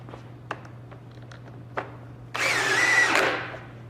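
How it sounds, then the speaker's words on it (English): A power drill drives a screw into a wooden window sash during assembly: a single short whirring run of about a second after a few light knocks and handling taps, close and fairly loud, with a steady low hum underneath. "going to install the screws."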